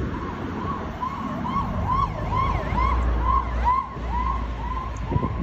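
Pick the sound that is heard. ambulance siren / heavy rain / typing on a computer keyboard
ambulance siren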